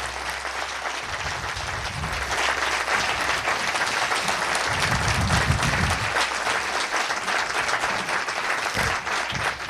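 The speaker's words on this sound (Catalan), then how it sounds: "me agradaría donar un fort aplaudiment a todos los companys que están aquí" A crowd at a book presentation in Reus applauds loudly and steadily for close to ten seconds. Dense clapping swells slightly midway, with low murmurs and shouts mixed into it.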